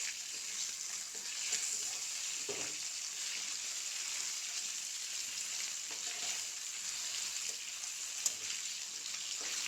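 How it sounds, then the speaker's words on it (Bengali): Fish fries in a pan with a steady, bright sizzle of hot oil that continues evenly throughout, close up, with a few faint stirring touches and no talking. "এই যে কি সুন্দর আমার মাছ ভাজা কমপ্লিট"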